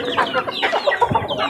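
Several chickens, two hens and four young roosters, cluck and chatter close by in quick, overlapping bursts.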